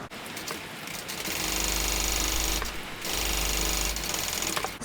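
A sewing machine runs stitching a row on a tote bag, two sustained bursts of fast, even whirring and needle rattle, close and loud, separated by a short pause with a light mechanical click.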